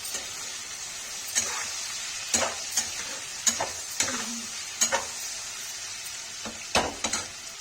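A spoon stirs red chili powder through parwal and potato frying with turmeric, scraping the pan in irregular strokes over a steady sizzle. It is close and clear, with no talking.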